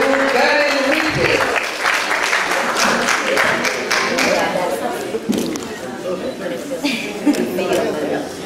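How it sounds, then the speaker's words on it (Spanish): Loud applause and cheers from an audience at an awards ceremony welcome Peruvian singer Karen Enrique, with dense clapping and some chatter in the crowd. "recibimos con fuerte aplausos a la voz sensacional del Perú, Karen Enrique."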